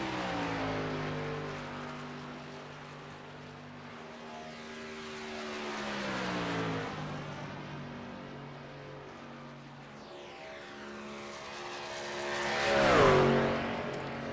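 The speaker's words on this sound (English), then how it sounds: "trying to keep that truck wound up here to get a good run in his second lap" A race truck engine in the iRacing sim at Auto Club, revving high with a whining tone that rises and falls through gear changes, building to a loud, close surge near the end.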